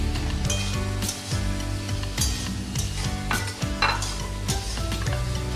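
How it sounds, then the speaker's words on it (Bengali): Eggplant, potato and pointed gourd are stirred and fried in a pan, giving a steady close sizzle with repeated scraping and clinking of a utensil against the metal, continuous throughout with no talking. "বেগুন আলু পটলটা আমার 2 থেকে 3 মিনিট কষে নেওয়া হয়ে গেছে।"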